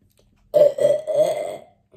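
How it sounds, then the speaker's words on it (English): A single drawn-out burp rolls on for over a second, close and fairly loud, rising and dipping in a couple of gulping pulses before trailing off into quiet. "what is it with everyone and burping?"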